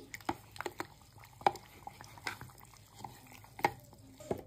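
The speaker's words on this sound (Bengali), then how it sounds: "একটুখানি চামচ দিয়ে মিশিয়ে নিচ্ছি" A spoon mixes rice flour and semolina with hot water in a bowl, producing soft, scattered clinks and wet scrapes at close range that are quiet and irregular.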